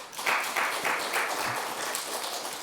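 Church congregation applause at an outdoor worship service, a brief burst of steady clapping with no talking over it.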